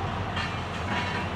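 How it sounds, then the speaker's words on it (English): A train rumbles past at a moderate distance, a steady, broadband roar with faint rhythmic clatter. "We'll see this train again two more times"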